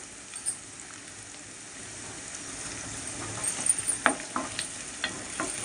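Three onions frying in a pan for a prawn and raw mango curry, a soft continuous sizzle with light stirring scrapes and clinks rising near the end, close and fairly quiet.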